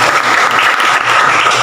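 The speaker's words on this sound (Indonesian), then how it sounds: "Tepuk tangan dulu dong." Loud, close applause from students in a school classroom during a legal awareness session, a brief burst of many hands clapping together.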